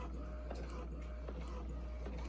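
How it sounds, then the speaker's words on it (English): An Epson ET-2760 inkjet printer converted for sublimation printing runs with a low mechanical hum and soft rhythmic clicks from the print head moving back and forth, quiet and close. "this is a printer that I converted over into sublimation"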